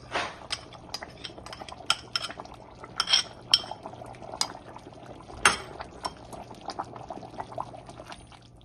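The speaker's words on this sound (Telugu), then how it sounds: "అది మరిగేటప్పుడు ఈ పిండి వేసేసేయండి" Goat tripe sambar simmering in a pot while gram flour batter is poured in, with scattered clinks and taps of a utensil against the vessel over a low bubbling background.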